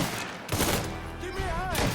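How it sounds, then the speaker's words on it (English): Shotgun fire in the video game Mafia III, a couple of heavy blasts in quick succession amid busy combat noise, with voices shouting nearby. "It's shotgun time!"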